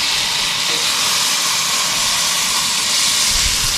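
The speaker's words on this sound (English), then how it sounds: "Lots of hot steam going on." Steady, loud hiss of hot steam rising from ribeye steaks cooking at a riverside campsite, a continuous broadband rush with no breaks or voices.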